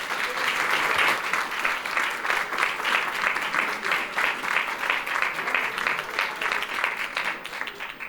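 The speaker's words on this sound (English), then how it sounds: "Let's give them a round of applause." Steady audience applause at a school board meeting honoring students and a middle school principal, even clapping that holds throughout and tapers slightly at the end.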